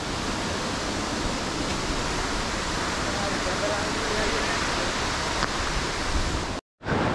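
Diyaluma Falls, a tall waterfall in Sri Lanka, roars as a loud, constant broadband rush heard close by, cutting off abruptly near the end.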